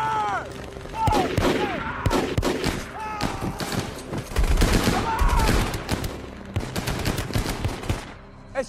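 A World War II tank battle scene in a war film: heavy bursts of machine-gun and rifle fire crackle and thump continuously, with dull booms and shouted voices under the din.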